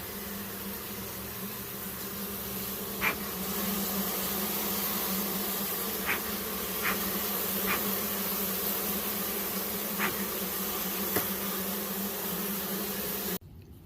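Bees buzz steadily around a cat during a hive removal, a continuous low droning hum with a few brief sharp clicks, fairly close and alone.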